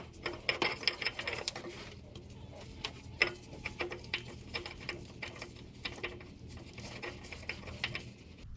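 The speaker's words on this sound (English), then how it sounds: "now I'm going to do about 3/4 of a turn with this 25mm socket on the end of that molded in nut on the K&N oil filter" A ratchet wrench with a 25mm socket turns the molded nut on a K&N oil filter on a 2015 Ford F-150, giving quiet rapid clicking bursts and light mechanical ticks, close but faint.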